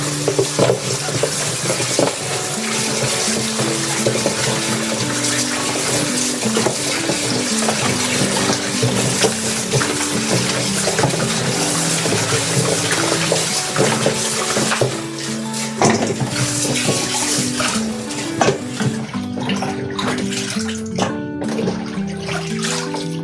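Food gets washed under a running kitchen tap, a steady loud stream of water with splashing and handling noises throughout, with faint music playing underneath and no talk.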